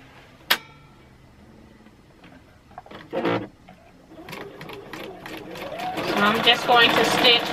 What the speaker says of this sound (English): I'm just going to stitch my quarter inch seam